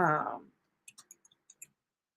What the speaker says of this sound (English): I'm typing in 2 different places